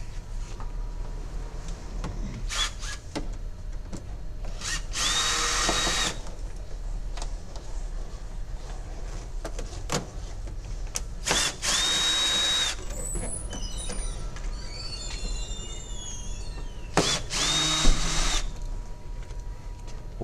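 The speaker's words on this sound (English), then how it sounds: "Simply use either a Phillips head screwdriver or I use a drill." A power drill backs screws out of a vending machine's light guard in several short whirring bursts, each with a rising whine, separated by pauses filled with small clinks and handling noise.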